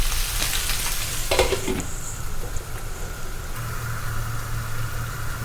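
Chicken pieces fry in a pan with a constant close hiss and crackling sizzle, a short clatter early on and a low hum running underneath.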